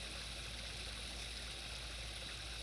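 Running water from a temporary landscaping waterfall, set up outdoors by a lawn care and landscaping company, gives off a steady, even rush of broadband splashing that holds constant throughout with no voices.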